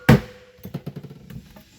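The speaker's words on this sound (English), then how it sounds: "And then hit it with a hammer." Hammer blows on a rivet during aircraft wing assembly, one loud strike followed by a run of five or six lighter, quick taps, close and alone.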